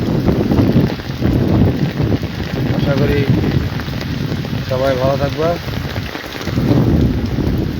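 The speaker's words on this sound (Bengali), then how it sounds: "বৃষ্টি অনেক বেড়ে গেছে বেশিক্ষণ থাকা যাবে না মনে হয় বাতাসও বেড়ে গেছে" Heavy rain pours and strong gusts of wind batter the microphone in a loud, surging roar outdoors, while a person talks briefly in the middle.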